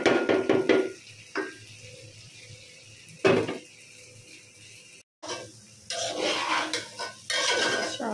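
A metal pot of cooked beef is lifted off the stove, with clanking and scraping of cookware in a few sharp bursts separated by quieter pauses, then a longer stretch of rattling near the end.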